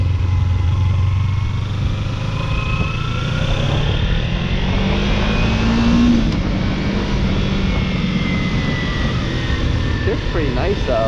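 A 2017 Kawasaki Ninja 300 engine is heard while being ridden, a steady loud drone with rising and falling revs. People talk over it.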